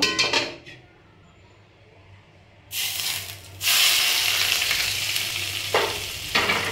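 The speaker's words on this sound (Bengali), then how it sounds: "এবার আমি এই গরম তেলটা যে মাংসের মধ্যে আমি দিয়ে দেব কিছুটা পরিমাণে" Hot oil is poured over raw chicken pieces for a chicken curry, bursting into a loud, close sizzle after a quiet start, then a steady hiss that swells further and carries on to the end.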